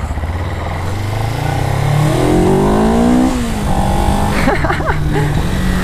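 A Suzuki GS500E motorcycle engine revs up in rising sweeps, loud and close, then settles to a lower drone with a quick blip near the end.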